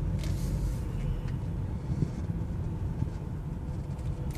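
A 2003 Mitsubishi Lancer driving, with a steady low engine hum and road rumble from inside the cabin, constant and moderately loud, no talking.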